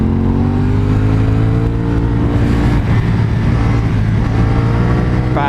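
A motorcycle engine revs and drones steadily while riding at the Rutland TT, loud and close throughout with the pitch rising and settling as the throttle is worked, and no voices.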